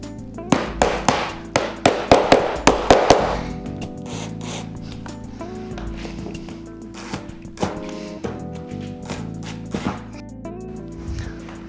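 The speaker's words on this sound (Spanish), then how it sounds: "ahora la ayudamos con el martillo hasta fijar con los dos tetones de plástico" A hammer strikes in a quick run of about ten sharp taps, driving plastic dowels into a kitchen cabinet, followed by scattered lighter knocks and a few more taps, close up with no talking.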